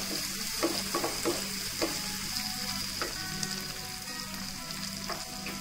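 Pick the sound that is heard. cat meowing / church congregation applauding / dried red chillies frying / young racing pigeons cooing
dried red chillies frying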